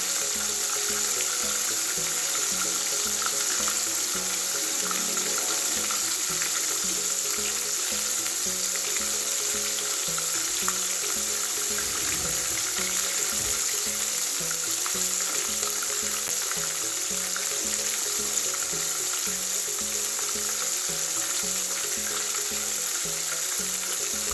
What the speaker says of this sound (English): So we have gone about 7 seconds in frying